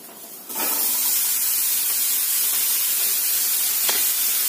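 Bitter gourd and green tomato fry in a pan with a steady, loud sizzling hiss that starts abruptly and continues unbroken, with a couple of faint clinks.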